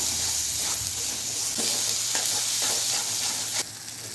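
Gram flour (besan) frying in a fish roe gravy, giving a steady, close sizzle with faint stirring scrapes throughout and no talk.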